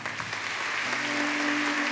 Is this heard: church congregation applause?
yes